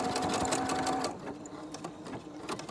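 A serger overlocks the edge of a LuLaRoe Deanne 2 dress, a steady close mechanical whir that runs loud for about a second, then continues at a lower, slower pace.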